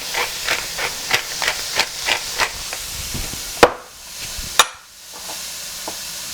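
Mushrooms frying in oil in a pan, with a series of sharp, evenly spaced sizzling bursts over a soft hiss, then a couple of louder crackles and quieter sizzling.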